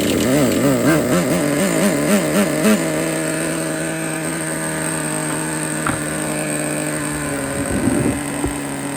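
A Traxxas Nitro T-Maxx 2.5 RC truck's small nitro engine idles loudly and steadily after a completely cold start, its buzzing tone wavering at first, then settling into a high, constant drone with brief revs near the end.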